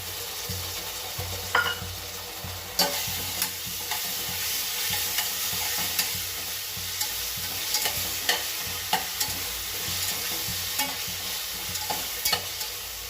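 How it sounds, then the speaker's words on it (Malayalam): Ginger garlic paste fries in a pan for chicken biryani, a steady close sizzle running throughout while a spoon stirs and scrapes with light, irregular clinks. "ഇതിലേക്ക് നമുക്ക് ഇഞ്ചി വെളുത്തുള്ളി പേസ്റ്റ് ചേർത്ത് കൊടുക്കാം"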